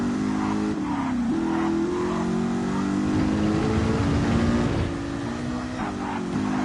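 A car racing around a track in a driving video game, the engine droning loud and close, pitch rising with the revs and dipping at each gear change, with no one talking over it.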